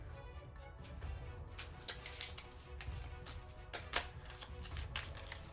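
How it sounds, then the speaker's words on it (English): A deck of game cards from Soul Raiders being shuffled by hand, quiet rapid riffling clicks and soft slaps repeating over low room noise, with no talking. "Give these a good old shuffle"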